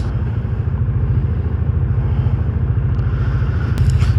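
A Kawasaki Dominar 400 motorcycle runs with a steady, close, loud low rumble and an even pulsing beat, with no voices over it.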